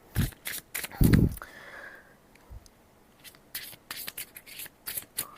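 Zombie cards from a print-and-play solo board game being shuffled by hand, with a louder riffle near the start followed by quieter scattered card handling and tapping on a table, close up.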